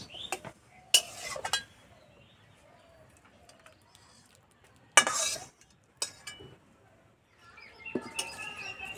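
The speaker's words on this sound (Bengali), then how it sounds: "হয়ে গেছে, একটা ছাঁকনিতে ঢেলে নেব।" Cooked tomato is scraped and pressed through a strainer with a spatula, giving a few sharp clinks and scraping bursts spaced apart, with a voice speaking softly between them.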